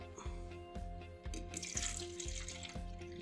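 Water from a carton of boxed water pours steadily into a container, a continuous splashing gurgle with a faint rhythmic background pulse, no talking.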